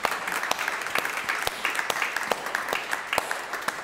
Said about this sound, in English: Clap for Mary.